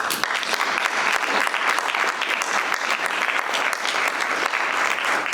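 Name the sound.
applause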